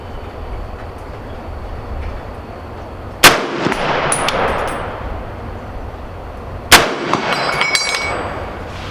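Two sharp, loud M1 Garand rifle reports at an outdoor range, a few seconds apart, each followed by a ringing metallic clang and a fading echo over steady background hiss.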